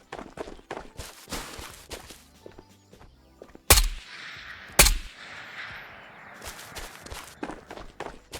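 Gunshots aimed at bots in Ghosts of Tabor, two sharp loud reports standing out among footsteps and movement noise, with occasional talking.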